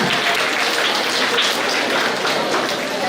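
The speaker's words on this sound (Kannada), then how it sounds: "ಅಧ್ಯಕ್ಷರನ್ನು ಜೋರಾದ ಚಪ್ಪಾಳೆಯೊಂದಿಗೆ ಗೌರವಿಸೋಣ" An audience claps steadily for the chairman at a stage gathering of a charitable foundation, a dense, continuous wash of applause lasting the whole stretch without a break.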